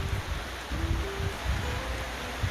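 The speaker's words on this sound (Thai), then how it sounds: "อันนี้บรรยากาศฝนตกหลังบ้านนะคะ" Steady morning rain falls behind a house beside a wooded area, heard from a second-floor rooftop as a constant soft hiss with faint low rumbling underneath, and no voices.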